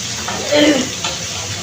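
Bata fish sizzling in a frying pan as the pieces are flipped to fry the other side, a steady close hiss with a brief louder burst midway.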